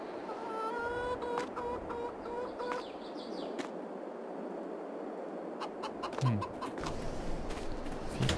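Chickens cluck close by in the Farming Simulator 22 video game, giving a few short tonal calls at the start. Soft ambient game noise and occasional clicks follow, and no one speaks.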